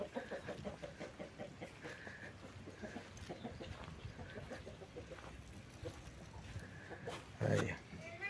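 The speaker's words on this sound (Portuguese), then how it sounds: "galinhas aí, ó. Olha que bacana." Chickens cluck softly in a yard at a rural country property with a house and pond, their intermittent calls scattered and fairly distant beneath the voices of people talking nearby.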